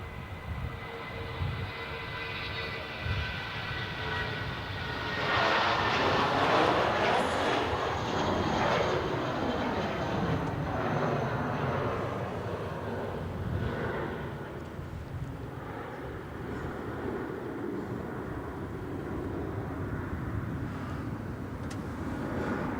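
A jet airliner departs Melbourne Airport at night, a loud sustained engine roar swelling to a peak and then easing into a long rumbling fade, heard alone.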